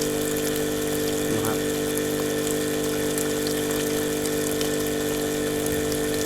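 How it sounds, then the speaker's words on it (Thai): A small water pump runs on power from an amorphous solar panel, giving a steady, unbroken motor hum with water rushing through it. The sound holds an even level throughout, with a faint brief knock near the start. "ต่อแล้วปั๊มน้ำทำงานนะครับ"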